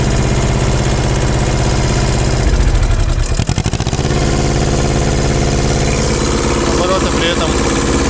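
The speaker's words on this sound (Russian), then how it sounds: "Работает достаточно ровно двигатель." Small Shibaura SU1341 mini tractor diesel engine idling steadily and evenly up close, a continuous loud chug with a brief dip in the middle, running without pause throughout.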